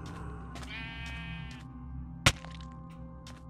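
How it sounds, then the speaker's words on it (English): A sheep in Minecraft gives a short wavering bleat, followed by a sharp cracking block sound and soft game clicks over a quiet background. "Hey, a brown sheep!"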